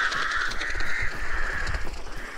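Crows caw in a video game, a couple of harsh drawn-out caws sounding close and fairly loud over faint game background noise.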